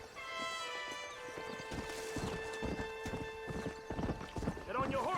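Horse hooves clip-clopping in Red Dead Redemption on Nintendo Switch, a steady, even rhythm of hoofbeats under sustained game music.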